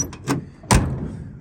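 Door on a worn 1972 Chevrolet C20 pickup being worked, with a couple of sharp knocking clunks, the second louder, close by.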